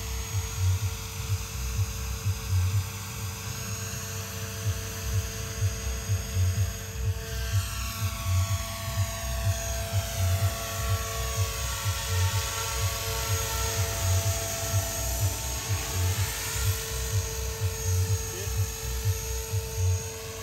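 A Blade 360 radio-controlled helicopter flies at a night RC heli event, its steady high-pitched rotor and motor whine droning loudly and continuously with a pulsing beat, while people talk nearby.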